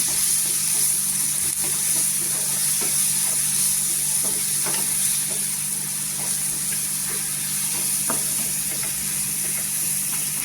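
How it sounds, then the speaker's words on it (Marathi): Dry spices, including Kashmiri red chili powder and garam masala, fry in oil for a dried bombil chutney, with a constant close sizzling hiss and faint scattered stirring ticks throughout. "पूर्णपणे सुके मसाला आहे ते तेलावर परतून घ्यायचं"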